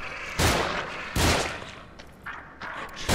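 Loud gunshots fired in The Evil Within horror game, three or four sharp blasts spaced irregularly over a few seconds, each with a booming tail.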